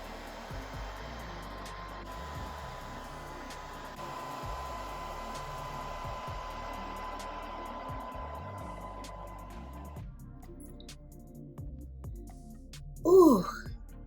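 A hair dryer with a diffuser attachment blows steadily on a curly bob wig, a constant whooshing drone that runs for about ten seconds before cutting off, followed by a brief vocal exclamation near the end.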